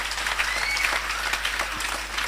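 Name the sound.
audience applauding the teachers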